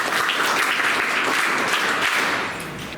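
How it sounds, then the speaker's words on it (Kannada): A classroom of students at Vidyachethana PU College in Magadi clap for a student named Vishwas: a dense, steady burst of many hands for about three seconds, easing off slightly at the end. "ವಿಶ್ವಾಸ್ಗೊಂದು ಚಪ್ಪಾಳೆ ಬಂದಿದೆ"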